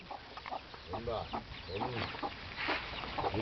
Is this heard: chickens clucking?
yes